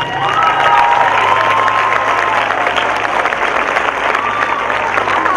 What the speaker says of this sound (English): let's give a big round of applause to the two recipients